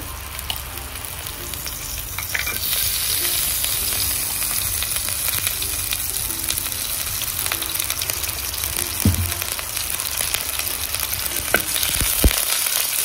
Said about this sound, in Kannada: ಫ್ರೈ ಮಾಡಲಿಕ್ಕೆ ನಾನು ಸ್ವಲ್ಪ ತುಪ್ಪವನ್ನು ಹಾಕ್ತಾ ಇದ್ದೇನೆ